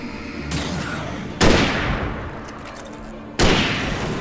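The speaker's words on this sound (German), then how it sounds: "Oh, zwei Schüsse, das geht ja super." Two loud gunshots fired in the video game Alan Wake, sharp booming blasts about two seconds apart with long reverberant tails and a softer thud before them; no speech.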